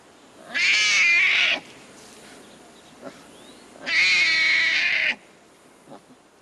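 Newborn Siberian tiger cubs cry in captivity: two loud, drawn-out, wailing mewls about a second long each, separated by a quiet pause with faint soft sounds.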